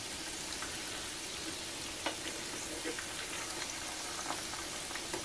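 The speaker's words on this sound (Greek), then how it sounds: "Μην βιαστείτε καθόλου να τους βγάλετε, αφήστε να τηγανιστούν καλά." Food fries in a pan of oil with a steady soft hiss. Small pops and crackles break through it now and then, close but fairly quiet, and no one speaks.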